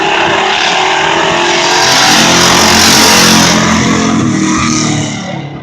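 Race cars roar around the oval at Birch Run Speedway in 2018, a loud sustained engine drone that swells as the pack sweeps past close by and then fades slightly at the end.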